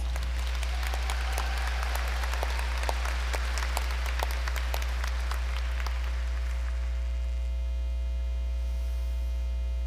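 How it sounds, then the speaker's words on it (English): Audience at a nursing pinning ceremony giving scattered, moderately close clapping that fades out after about six seconds, over a constant low electrical hum. "We would like to applaud your generous contributions to this class."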